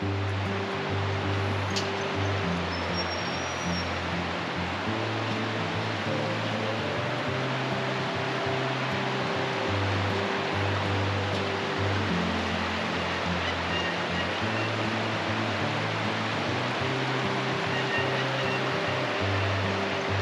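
A river in Tasmania rushes in a steady, broadband wash of flowing water, continuous and fairly loud throughout with no talking.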